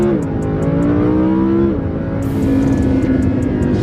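A Lamborghini Huracan engine revs loud and close from inside the car, its pitch climbing then dropping sharply at a gear shift before settling into a new sustained drone.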